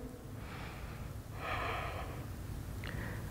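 Deep breaths held in a yoga pose, a few slow audible exhalations and inhalations rushing close to the microphone over a steady low background hum.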